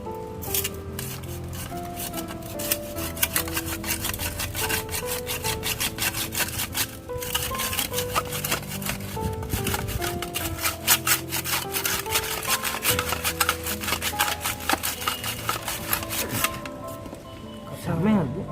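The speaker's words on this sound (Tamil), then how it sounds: "ஸோ நம்ம அடியோட நம்ம இந்த ரூட்டை மட்டும் கட் பண்ணிக்கலாம்." Roots of a peepal (Ficus religiosa) bonsai being cut during repotting, with repeated scraping, sawing strokes under steady background music and a talking voice.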